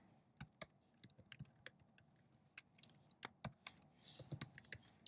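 Someone types on a computer keyboard nearby in an irregular run of crisp key clicks, with a quicker flurry near the end.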